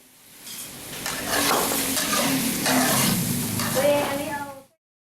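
Pad Thai stir-fried in a pan at a cooking class in Kanchanaburi, Thailand: steady loud sizzling with scraping and stirring of utensils against the pan, close up, ending abruptly.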